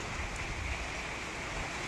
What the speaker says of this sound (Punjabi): ਪੂਰਾ ਮੀਂਹ ਪੈ ਰਿਹਾ ਜੀ